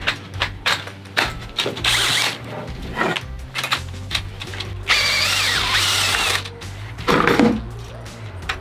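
A power tool reams the cut end of a PEX pipe to fit a Fostapex fitting, with loud whirring bursts that start and stop repeatedly, close by and without talk.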